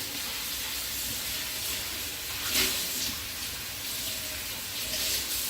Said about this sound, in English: Keep sauteing.